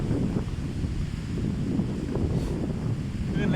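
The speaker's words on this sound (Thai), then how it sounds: "คลื่นแรงมากเลย" Strong ocean waves churn at Hat Saeng Chan beach, a broad rumbling wash of surf mixed with gusty wind buffeting the microphone, continuous and fairly close.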